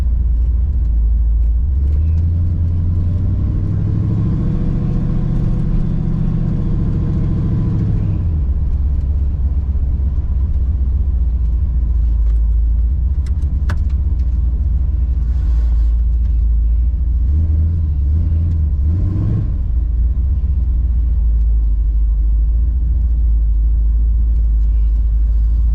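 A supercharged Cutlass on slicks drives past, loud and close, its engine surging in two long revving pulls that rise and fall over a constant heavy low rumble.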